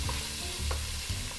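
Onions tumble into browning garlic frying in olive oil, giving a burst of sizzling and stirring close by, loud and steady with a couple of brief scrapes.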